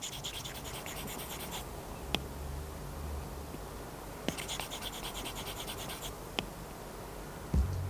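An Apple Pencil scratches across an iPad fitted with a Paperlike screen protector, making soft papery rasping strokes in short bursts with a few light tip taps between them.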